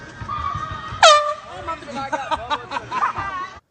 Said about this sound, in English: Brooks Rawson carries around an air horn to scare people